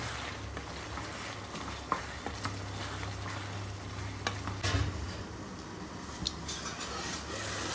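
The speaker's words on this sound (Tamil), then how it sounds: "ஸோ இதெல்லாமே அப்படியே ஒரு கிண்டிடலாம்." Chicken pieces fry in a pan with a continuous close sizzle, and a utensil scrapes and stirs them at intervals.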